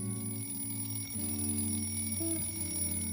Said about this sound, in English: My alarm usually goes off at 7 a.m.